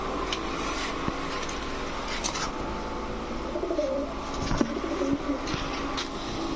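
Pigeons, highflyer and racer breeds kept for sale, coo softly a few times against a steady, noisy outdoor background, with no one speaking.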